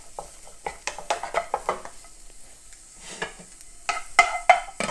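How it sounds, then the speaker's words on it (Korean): A spatula stir-fries bellflower root in oil in a pan, giving soft sizzling and irregular scraping and tapping strokes, close and moderate in volume, with no talking. "네, 주걱 사용해서 같이 볶아줄게요."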